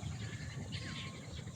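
Faint bird chirps and twitters drift in briefly over a steady low outdoor hum on a foggy morning in the Sundarbans, heard at a distance with no voices.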